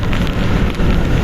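Steady heavy rain pours on a road during Typhoon Kristine, a dense, loud, continuous hiss with no talking.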